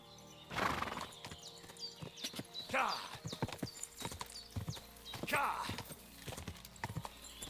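A horse in the medieval video game Kingdom Come: Deliverance II clops its hooves repeatedly and gives several loud whinnies, while someone talks excitedly over the sounds.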